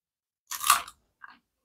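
Someone bites into a dry, crunchy snack that is tougher than pork rinds, shaped like an octopus tentacle. There is one loud, close crunching burst, then a couple of softer chews after a pause.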